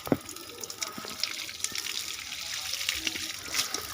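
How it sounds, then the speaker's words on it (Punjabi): Water runs from a tap in a steady splashing stream, with faint voices and occasional clinks in the background. "ਠੰਡਾ ਕੱਢ ਲਈਏ ਪਾਣੀ"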